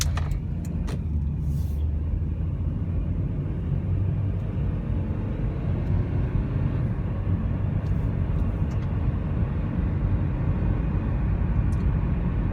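A 2005 Honda Accord EX-L with automatic transmission driving steadily, its cabin filled with a constant low engine and road rumble throughout, with no distinct shift events standing out.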